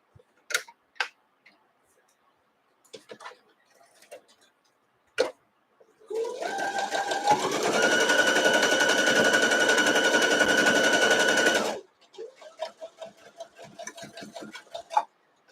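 A sewing machine stitches a quilt block in one continuous run of about six seconds, with a rising hum. Scattered clicks and handling noises come before and after.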